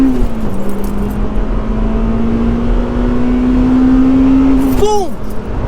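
Honda Civic Type R EP3 racing an Audi A3 3.2 V6, a loud sustained engine drone holding steady pitch, then a quick rising and falling sweep near the end, with voices over it.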